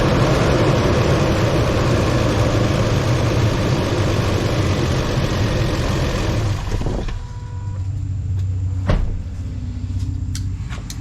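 A 2006 Toyota Tundra engine runs loudly and steadily before dropping to a quieter idle, followed by a few sharp clicks and knocks.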